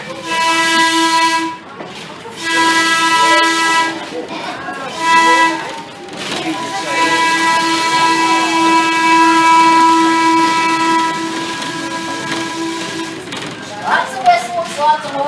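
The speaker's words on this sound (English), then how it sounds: "we're going to hear the whistle on the passenger car this time instead of Roger's horn." A passenger railcar's whistle sounds at a crossing on a railway museum line, with loud sustained multi-tone blasts broken by short gaps, running over steady rail rumble for most of the stretch before fading out.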